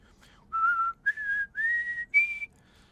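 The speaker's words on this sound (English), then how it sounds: "I love skillful whistling." A clear whistled tune of four sustained notes rising in steps, with short gaps between them, fairly close and alone.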